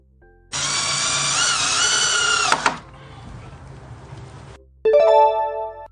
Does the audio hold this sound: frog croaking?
no